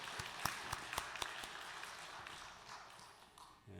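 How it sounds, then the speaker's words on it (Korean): Church congregation at a Wednesday worship service applauds, a fairly quiet round of clapping with a few sharp claps up front that softens and fades over a few seconds. "우리도 아멘으로 하나님께 큰 영광의 박수 올려드리겠습니다."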